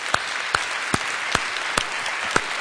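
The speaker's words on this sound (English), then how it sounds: "give Farah and Martin and Kelly and the rest of the team a huge round of applause" An audience at a showcase event applauds the organizers, filling the room with continuous crowd clapping while a few loud, evenly spaced claps ring out close by.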